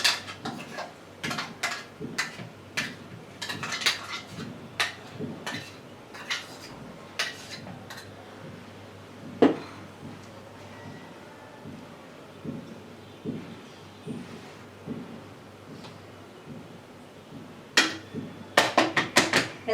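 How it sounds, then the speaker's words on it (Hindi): Sharp taps of a container of chikoo vegan nice-cream mixture being knocked against a surface to settle out air bubbles, coming in irregular clusters of quick knocks with quiet gaps between them and a final flurry at the end. "ऐसे टैप कर देना है। इससे क्या होगा कि अंदर बबल्स नहीं रहेंगे, मिक्स हो जाएगा।"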